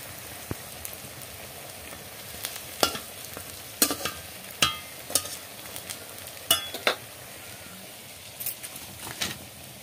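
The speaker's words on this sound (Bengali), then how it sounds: "ওই জন্য বড়া ভেজে নিচ্ছি সব কিছু" Coriander leaf fritters fry in oil on a clay stove with a steady crackling sizzle, broken by sharp pops and spatula scrapes at irregular intervals close by, with no one talking.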